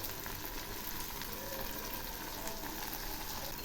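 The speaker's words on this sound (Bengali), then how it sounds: "এবার এই মশলাগুলো খুব ভালো করে কষিয়ে নেব।" Spice mix with mustard and poppy seed paste frying in a pan gives off a constant, close, loud sizzle and bubbling crackle, steady from start to finish with no voices.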